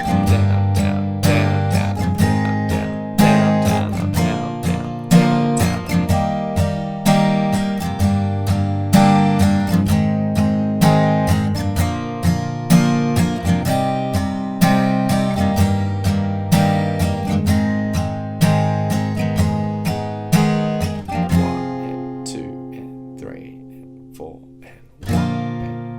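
An acoustic guitar strums the chorus chords of a song in steady, even downstrokes, each chord ringing before the next, played alone and close, ending on a held chord.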